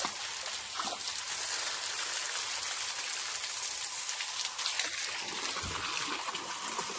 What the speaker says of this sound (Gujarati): અત્યારે તો આમાં પાણી જાય છે